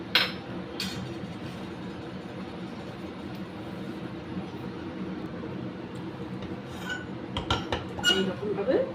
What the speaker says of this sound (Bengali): এইবার জলটা আমি ছেঁকে নেব,